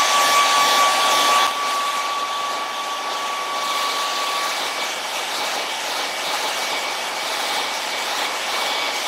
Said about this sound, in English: you can always get your handy dandy hair dryer out